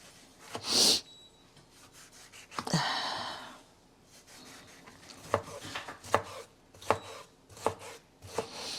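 Sharp knife cuts against a board chopping onion, scattered single chops with a few quick scraping strokes between them, close and fairly quiet.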